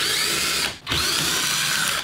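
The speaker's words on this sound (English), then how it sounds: "But it sounds like the thermostat's trying to kick it on," Commercial refrigerator compressor failing to start, giving a loud, steady buzzing vibration that cuts out briefly near the middle and then resumes, with no voices.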